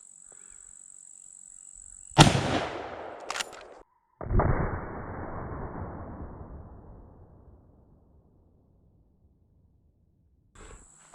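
A single loud, close gunshot from a regular .348 rifle firing 165 grain FTX rounds, a sharp crack followed by a long fading echo, with smaller sharp clicks before it and a steady electronic tone at the start.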